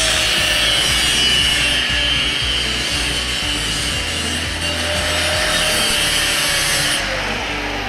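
A power tool cutting through a larger-diameter piece of junk metal on a bench, a loud, continuous grinding, sawing whine held close and steady throughout, with no talk.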